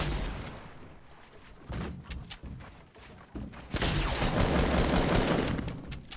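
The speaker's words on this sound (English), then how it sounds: "Okay, we're getting shot in the back." Gunfire in the Fortnite Battle Royale video game, with clusters of rapid sharp shots and impacts crackling in irregular bursts, building to a dense, loud stretch of firing near the end.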